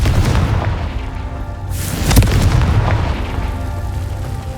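A Confringo spell explosion from the video game Hogwarts Legacy bursts with a loud boom in the middle of a dense, rumbling wash of game sound, with no talking.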